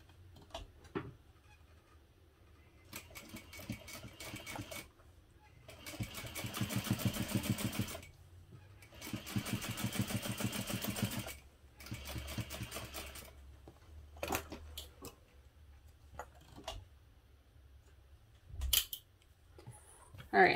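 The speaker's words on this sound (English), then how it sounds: "I'm going to top stitch along this seam using an 1/8 inch seam allowance" A domestic sewing machine top stitches a hip pouch seam with an 1/8 inch allowance, running in several close, steady bursts of rapid needle clatter separated by brief pauses and small handling clicks.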